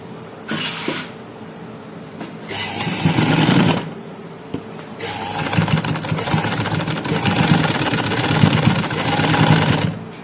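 A sewing machine runs in bursts, stitching along the edge of a neckline strip with loops, with a close, steady mechanical whir that stops and restarts several times.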